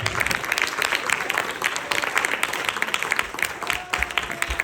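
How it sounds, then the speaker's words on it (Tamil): An audience at a Tamil school annual day claps continuously, a dense patter of many hands filling the room, with a few voices faintly under the applause. "நன்றி மட்டும் பத்தாது, இவர்களுக்கு ஒரு பெரிய கைத்தட்டல் கொடுத்து விட வேண்டும்."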